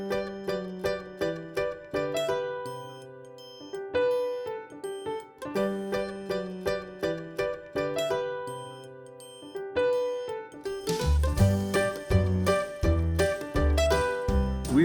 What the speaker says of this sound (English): as you could probably hear the church bells going off